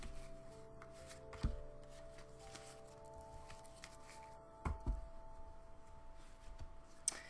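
Tarot cards are shuffled to draw a card, giving soft close shuffling with a few sharper taps and slaps against a faint steady hum.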